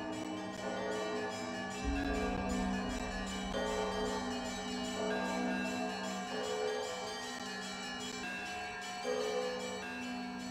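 Church bells from the Great Lavra Bell Tower at the Kyiv Pechersk Lavra ring in sustained, layered tones that hum on continuously, with occasional fresh strikes swelling the sound, and no speech.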